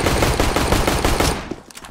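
Loud, close automatic gunfire in Counter-Strike: Global Offensive, a fast dense burst of shots that stutters and trails off near the end.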